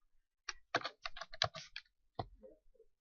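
Fingers type on a computer keyboard, entering account details in an expense form, a quick irregular run of close key clicks in two bursts with a short gap between, no voices.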